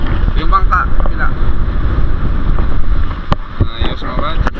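Small boat travelling on open water near an island, steady engine and wind rumble with water wash, loud and close, with occasional bumps and voices talking over it.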